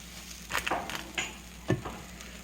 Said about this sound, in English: Notice the sizzling. This is how we're cooking the outside of our bread.